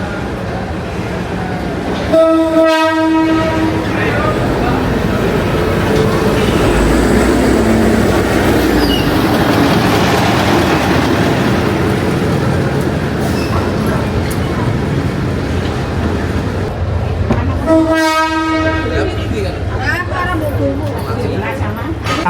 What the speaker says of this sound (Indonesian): Lokomotifnya jadul abis.